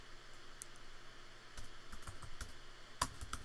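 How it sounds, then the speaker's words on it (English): Typing on a computer keyboard, quiet rapid clicks in short irregular bursts, close and alone with no talk. "you can see that as I'm typing,"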